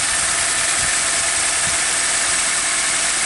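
A 2015 Hyundai Accent engine with loss of acceleration, running rich, droning steadily and loudly as the gas is pressed, with a constant hum and no clear rise in pitch.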